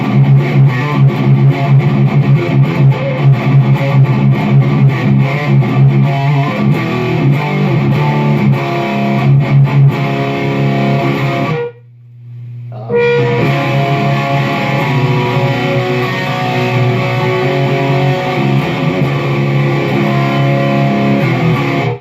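An electric guitar plays through the crunch channel of a Peavey 6534+ amplifier with the bright setting on, giving a crunchy hard-rock tone. The driven riff plays continuously and loudly, with a brief drop near the middle.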